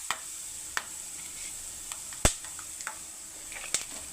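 Cashews and dried red chillies fry in oil for temple-style pulihora: a steady, quiet sizzle close by, broken by scattered sharp pops and clicks of stirring.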